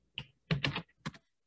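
Computer keyboard keys are typed in a few quick bursts, close and clear, as the ipconfig command is entered. A short cluster is followed by a brief pause and then a final couple of keystrokes.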